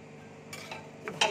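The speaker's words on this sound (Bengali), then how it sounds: "ভালো করে ভেজে নেব মশলাটাকে" Spices fried in a pan with turmeric, salt and asafoetida, stirred with a few scraping clinks against the metal under a faint steady sizzle, quiet and close with no talk.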